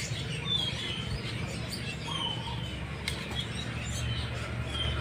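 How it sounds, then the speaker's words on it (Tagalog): Small birds chirp and tweet from a tree outdoors, a dense chattering flock with scattered high calls over a steady background hiss, moderately near and continuous. "Bird sounds. Ang ganda."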